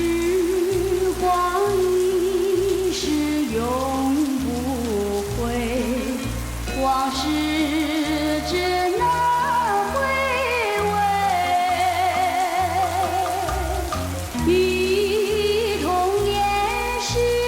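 Monsoon rain pours steadily in Georgetown, Penang, a dense hiss on surfaces that runs throughout beneath louder melodic music playing over it.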